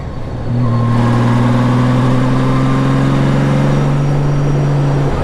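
A 2000 Honda Valkyrie motorcycle cruising on the interstate, its engine droning as a loud, steady hum that settles in after a brief rise, mixed with constant wind rush and road noise, close to the rider.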